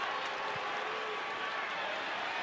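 Steady, dense crowd noise from a stadium soccer match between the Tampa Bay Rowdies and New York Red Bulls II, a continuous wash of applause and cheering at even loudness throughout, with no clear individual voices.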